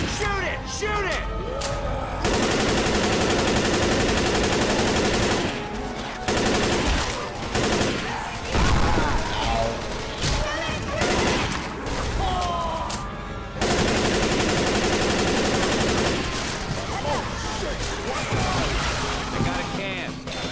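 Rapid gunfire bursts from shooting a zombie in Left 4 Dead 2, loud and dense, with brief pauses between volleys; people talk excitedly over the shots.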